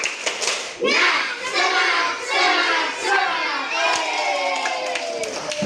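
A crowd of children clap in a rhythmic 'tepuk semangat' chant and shout together, loud and close, with voices rising in bursts.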